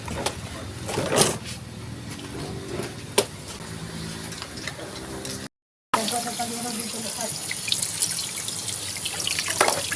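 Water from a tap runs steadily over raw chickens being washed at a sink in a rural outdoor kitchen, with splashing and trickling throughout and a short gap partway through.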